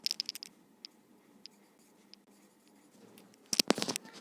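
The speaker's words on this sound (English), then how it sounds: "I am writing the dimensions." Pen or pencil writing dimensions onto a practical-geometry quadrilateral drawing: short scratchy strokes and taps, then a denser burst of quick writing near the end, close and fairly quiet with no talk.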